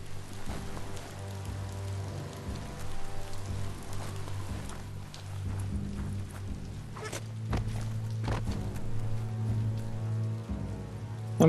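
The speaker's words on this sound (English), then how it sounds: "No escaping the rain if you've got to be out." Steady rain falls in the video game Biomutant, a soft constant hiss with footstep-like thuds and a low tonal music drone underneath.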